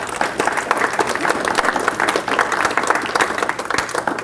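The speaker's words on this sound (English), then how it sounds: "I just think they need applause for that." A church gathering breaks into applause, a loud, dense wash of many hands clapping at once, sustained and even throughout with no break in the sound.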